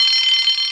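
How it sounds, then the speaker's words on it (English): A steady, shrill alarm rings continuously in an animated railway story about a breakdown train, loud and unbroken with no voices. "Soon came the alarm."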